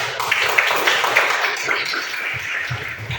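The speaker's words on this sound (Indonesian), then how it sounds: "Tepuk tangan." A classroom of students applauding together, a steady, close patter of many hands clapping that fades slightly toward the end.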